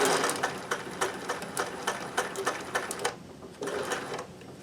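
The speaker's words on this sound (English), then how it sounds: "So making sure we're sewing straight." A sewing machine stitches a straight seam in one steady, rhythmic run of close, even pulses, then pauses briefly before a shorter final burst.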